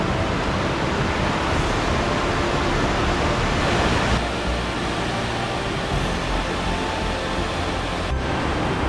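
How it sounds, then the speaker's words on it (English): Ganoga Falls at Ricketts Glen, Pennsylvania, one of the state's largest waterfalls, pours in a loud continuous broadband roar of rushing water, steady and close throughout with no voices. "I'm going to have a date all by myself here with one of the largest waterfalls in the entire state of Pennsylvania"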